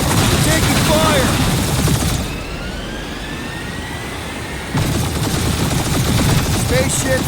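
Rapid automatic gunfire in the Guardians of the Galaxy video game, dense bursts that drop away midway and resume, layered over engine roar and a game soundtrack.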